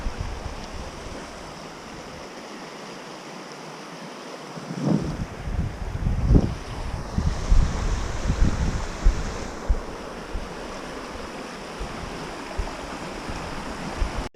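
A waterfall pours down from a tepui on Roraima, a steady broadband rush of falling water with wind buffeting the microphone and louder surges midway, no voices.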